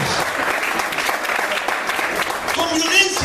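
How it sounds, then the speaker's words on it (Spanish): A church congregation bursts into applause during a sermon, a lively burst of clapping with voices mixed in and a brief higher tone rising near the end. "Den un aplauso al Señor, gloria a Dios."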